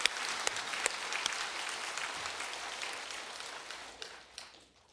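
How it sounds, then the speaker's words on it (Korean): A church congregation gives a round of applause during a year-end Sunday service, a soft, fairly distant patter of many hands with a few sharper claps, fading away near the end. "모두에게 축복의 박수 한번 하겠습니다."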